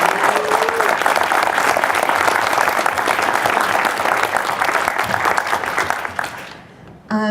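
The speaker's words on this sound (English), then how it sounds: "please give a huge applause to the tech mentors from Capstone" A demo day crowd breaks into sustained, loud applause for tech mentors, steady clapping for about six seconds that tapers off near the end.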